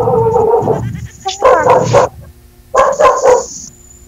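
Loud dog barks in a few close bursts separated by short pauses, with a high ringing tone in the background.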